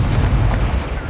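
Incendio fire spell cast in Hogwarts Legacy, a loud, dense whooshing burst of flame with a deep rumbling body filling about a second.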